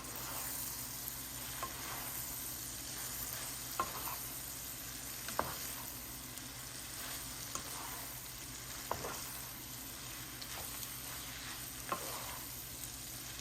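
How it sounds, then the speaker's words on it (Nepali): Noodles being stirred in a pan with cumin powder, chili paste and soy sauce, a steady sizzle under repeated scraping strokes of the utensil, fairly quiet and continuous with no talking. "अब यसमा नुडल्स राख्ने अनि यसलाई राम्रोसँग चलाउने।"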